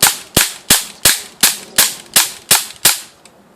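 A firearm fires rapidly in an evenly spaced string of about nine loud, sharp shots, each ending in a short decaying echo, close to the listener and with no talking.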